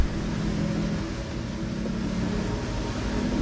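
A machine-shop spindle spinning at high RPM, around 14,000, giving a steady broadband whir with a faint low hum underneath, continuous and moderately loud, with no voices.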